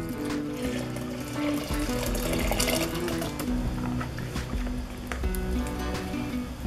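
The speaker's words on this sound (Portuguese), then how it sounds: "agora eu vou pegar aquela água que eu cozinhei, a lentilha, e vou cobrir, como se faz um arroz normal" Cooking water from boiled lentils pours over lentils and rice in a pot for mjadra, a steady splashing, trickling flow heard close up with no talking.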